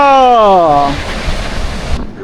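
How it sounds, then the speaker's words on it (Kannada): Iceland's Gullfoss waterfall roars as a loud, broad rushing wash; a voice speaks over it at first, and the roar then cuts off abruptly near the end. "ಇದೆ ಗಾಲ್ಫಾಸ್ ಜಲಪಾತ"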